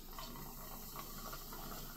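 A drink being poured into a glass during a grocery drinks taste test, heard as a soft, steady liquid trickle and fill, faint and continuous with no talking.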